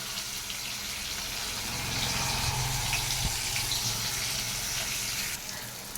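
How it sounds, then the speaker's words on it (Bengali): Half a cup of water pours into ground turmeric, cumin and chili powder with chopped tomato for a sour dal, a steady close gush over several seconds, no voices. "দিয়ে দিচ্ছি হাফ কাপ জল"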